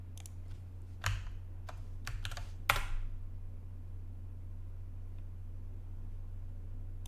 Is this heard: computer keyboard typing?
yes